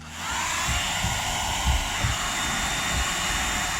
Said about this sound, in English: I'm going to hit it with the hair dryer, heat it up